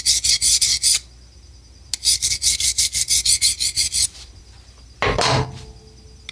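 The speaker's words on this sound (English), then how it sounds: "let me just dress this on my stone" A scraper blade is dressed on a sharpening stone while an engine cylinder head is being reinstalled, a rapid series of rasping strokes in two bursts, close and fairly loud, followed by a brief louder scrape.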